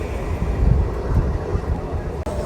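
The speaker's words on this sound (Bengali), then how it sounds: "এই মুহূর্তে আমাদের ট্রেন বাদগুল্লা স্টেশনে ঢুকছে।" A passenger train rolling along the Krishnanagar–Ranaghat line toward Badkulla station, past a point where the tracks split, heard from on board as a steady, heavy low rumble with surging swells and a brief drop near the end.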